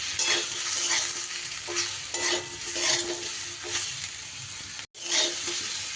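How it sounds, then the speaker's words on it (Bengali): Eggplant pieces and other vegetables stirred in hot oil with bitter gourd, a steady sizzle broken by repeated scraping strokes of a spatula, close and loud, with a brief pause near the end. "এইবার সব সবজি আর একবার ভালো করে তেলের মধ্যে এইভাবে নাড়াচাড়া করে নেব।"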